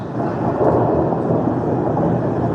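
Rolling thunder rumbles over steady heavy rain as a sound effect in a 1962 pop song, loud and continuous throughout with no voice over it.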